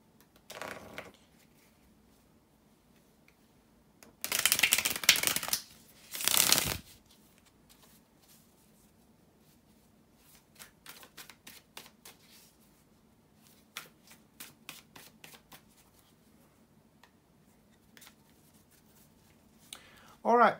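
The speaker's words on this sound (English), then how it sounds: "bear with me a second, guys, to shuffle the tarot cards" Tarot cards riffled and shuffled in two loud bursts, followed by softer card snaps and taps, close up with quiet stretches between.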